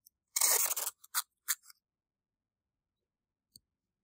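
Construction paper masking tape is handled while preparing a zip pocket on dense wool fabric: one loud, close rip of tape, a few short crackles, then near silence with a faint click.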